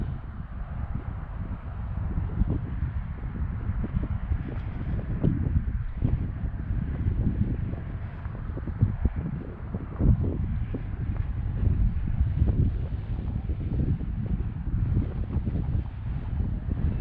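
Gusty outdoor wind buffeting the microphone at an RC flying field, a dense low rumbling roar that swells and dips in gusts throughout with no break.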